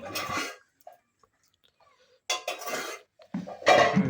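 A metal lid clatters onto a cooking pot with a few sharp clanks and scrapes of utensils, in short bursts separated by quiet gaps, close by in a home kitchen.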